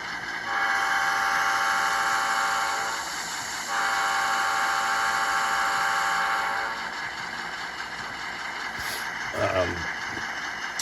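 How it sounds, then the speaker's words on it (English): A model train horn blows a long, steady multi-tone chord, pauses briefly, sounds again, then fades into mechanical hum with a short clatter near the end. "Here's the horn I have it set up with right now."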